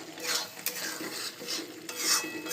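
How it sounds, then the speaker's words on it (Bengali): A spoon stirs a vegetarian vegetable curry with coconut and oil in a pan, giving a close, soft rhythmic scraping with light sizzle and no talk. "নারকেল দেওয়া হয়ে গেছে, এবার ভালো করে নেড়ে নিই"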